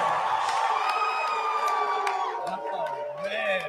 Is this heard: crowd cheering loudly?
yes